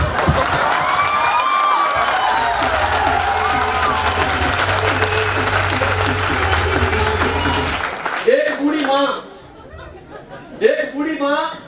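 Audience applause at a Hindi talk, a loud sustained clapping crowd with some chatter and a low music drone underneath, fading out after about eight seconds into someone speaking.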